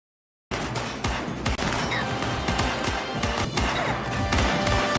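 Gunfire in a staff shootout from Squid Game season 2: dense, rapid bursts of shots and clattering impacts rattle on without pause for several seconds, loud and close, after a brief silent start.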